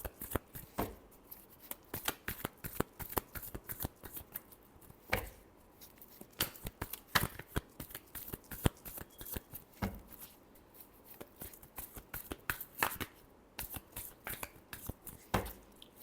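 A deck of cards is shuffled during a tarot-style reading: a long run of quick, crisp card slaps and riffles in an uneven rhythm, close and fairly quiet, with no voice.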